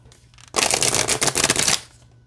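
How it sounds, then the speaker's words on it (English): Oracle cards are shuffled in a quick riffling burst of soft rapid flutters and snaps, lasting just over a second after a brief quiet start. "let's see how these shuffle"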